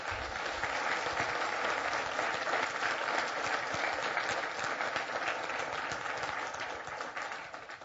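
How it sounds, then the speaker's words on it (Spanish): A church congregation breaks into sustained applause, a dense steady wash of many hands clapping that holds for several seconds before easing slightly at the end, with no talk over it. "¿Por qué no le dan un aplauso a Dios?"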